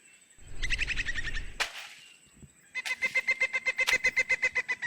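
A chicken clucks in a repeated series of short calls at a Vodoun square event in Benin, held up just before being released into the air; a loud burst breaks the clucking midway before the steady calls resume.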